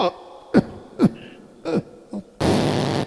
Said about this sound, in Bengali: কে কাশতে কাশতে আসছে রে বাবা?